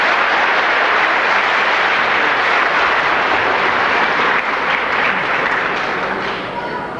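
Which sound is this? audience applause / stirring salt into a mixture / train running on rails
audience applause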